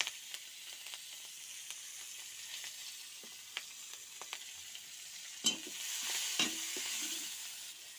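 Chopped onions sizzle softly in hot oil, a faint, steady frying hiss punctuated by sporadic clicks and spoon taps. The sizzle swells slightly louder as the onions are stirred toward the end.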